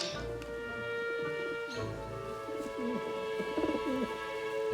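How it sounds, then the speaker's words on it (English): Pigeons in a flock cooing softly outdoors, a few low murmuring coos over a steady background hum. "See those pigeons there?"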